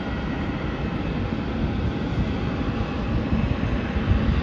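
A Cathay Pacific airliner taxis to the terminal at Melbourne Airport, its engines giving a steady, broad rumbling roar heard from a distance, constant throughout with no voices.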